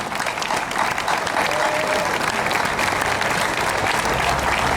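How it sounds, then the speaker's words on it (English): Steady, dense applause from a large audience at a community event against antisemitism and hate, loud and continuous throughout with no gaps. "please give her a rousing round of applause for all of the work she's been put together"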